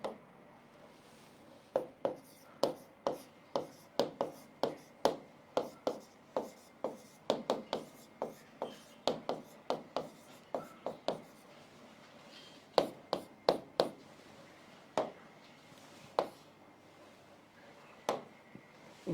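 A teacher writes a chemistry formula during a lesson: close, crisp tapping strokes come in quick rhythmic bursts, separated by short pauses, with no talking.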